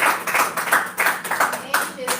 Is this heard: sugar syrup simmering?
no